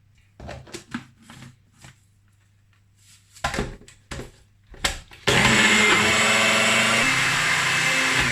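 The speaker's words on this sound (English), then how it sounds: "So I'm gonna put it in my blender to blend it into a powder." A few soft clicks and taps, then a blender roars to life and grinds sugar into powder, loudly and steadily to the end.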